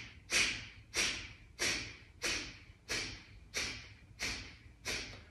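Breath of fire yoga breathing: rapid, forceful breaths pumped out in a steady rhythm, about eight sharp nasal exhales in quick succession, close and clear.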